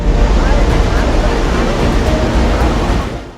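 Powerful flow of the Barpuda (Birsa Munda) waterfall in Kaprada, a dense, steady roar of rushing water close by that fades slightly toward the end.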